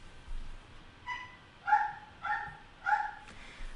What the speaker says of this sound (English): He's kind of barky right now.